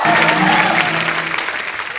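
A studio audience on a comedy show claps loudly for two seconds, the dense applause starting strong and easing off slightly, with a brief musical tone sounding underneath.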